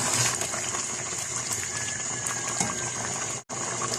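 Water pouring into rice in a cooking pot while making matar pulao, a steady broadband gushing and trickling fill that runs continuously at moderate level, with one brief break near the end.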